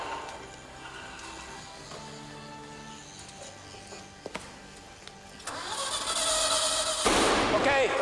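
A Ferrari engine fires up and catches, rising into a loud, steady roar that carries to the end, with people talking over the quieter lead-in.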